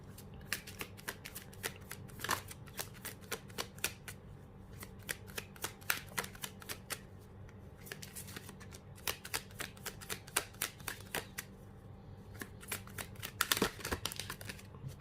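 Energy Oracle tarot cards being shuffled by hand: a steady run of crisp, rapid card riffles and slaps, close and fairly quiet, with no talking.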